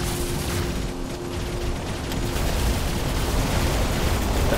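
Heavy robot weapons fire in a War Robots battle during a Beacon Rush mission on the Skyros map, a loud, continuous roar of gunfire and blasts that stays steady with no clear breaks and no talking.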